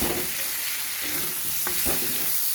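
Spices including turmeric and Kashmiri red chilli powder are stirred as they fry in oil in a pan for a Bengali fish curry, a loud continuous sizzle with scraping strokes of the spoon and no talking.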